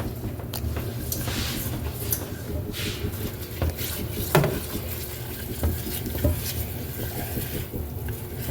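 Sugar grains scrape and grind against a pan while being stirred for caramel, with soft sizzling under repeated irregular scraping and occasional utensil clinks.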